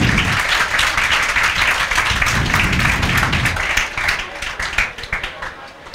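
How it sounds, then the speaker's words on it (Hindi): A classroom of students claps together, brisk overlapping applause that is loud at first and then thins into scattered claps as it fades. "राइट टाइम ताली बजा लिया करो"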